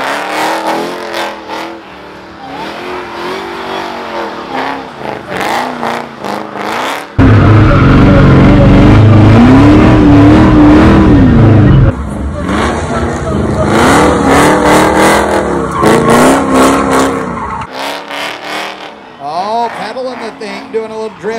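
Hellcat-swapped Dodge Dakota revs hard and howls through drift runs, the engine rising and falling in loud surges with a sustained scream in the middle, while people talk throughout.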